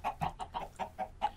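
Angry Chickens attacking in the Minecraft Crazy Craft video game give a rapid run of about seven sharp, clipped clucks in a steady rhythm, close and fairly loud with nothing else over them.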